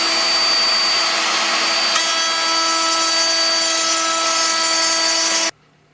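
A straight router cuts a groove along the mating face of a wooden door panel, a loud, close, steady high-pitched whine that holds for about five seconds, shifts pitch slightly partway, then cuts off abruptly.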